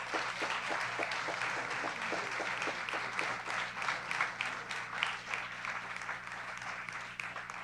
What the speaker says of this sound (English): let's give another round of applause to Mrs.